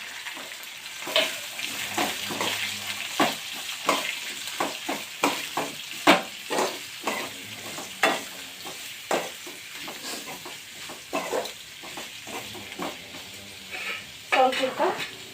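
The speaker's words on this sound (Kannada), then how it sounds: "ಸ್ವಲ್ಪ ಕೆಂಪಾಗೋ ಮಾಟ ಫ್ರೈ ಮಾಡ್ಕೋಬೇಕು ನೋಡಿರಿ" Mustard seeds, cumin and urad dal fry in a tempering pan, a steady sizzle punctuated by repeated scraping and clinking stirs against the metal, close and moderately loud.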